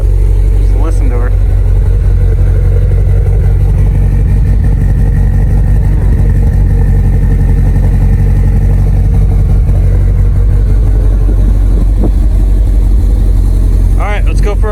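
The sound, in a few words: Subaru STI engine running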